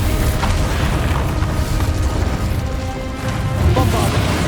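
Loud booming Incendio spell blasts during a Ranrok dragon boss fight in Hogwarts Legacy, a heavy continuous rumble with crashes layered over battle noise.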